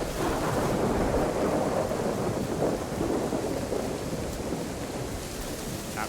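Heavy rain and rumbling thunder in the survival video game DayZ, a dense, constant downpour with a deep low roll throughout, loud and unbroken with no voices.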